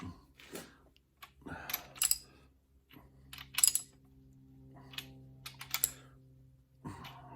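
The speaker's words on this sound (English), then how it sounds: "just use the regular ratchet here to just kind of bring them up." A regular ratchet snugs up the crankshaft bolts on a Case 188D tractor engine, giving short, sporadic bursts of crisp clicking separated by quiet gaps.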